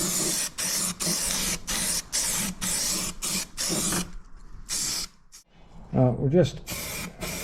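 Lanoguard rust-proofing coating sprayed under a Vauxhall Corsa B in short repeated hissing bursts, close and loud, with brief pauses between, and someone talks briefly near the end.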